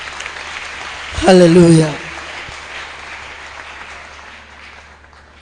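A church congregation at a French-language prayer service applauds in praise of the Lord; the clapping is a steady, fairly faint wash under a loud shouted voice near the start.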